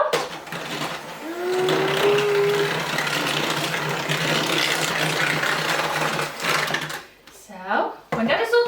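An electric mixer whirs steadily as egg and sugar are beaten together for healthy chocolate cookie dough, running close and continuous before cutting out near the end, with voices of an adult and a small child over it.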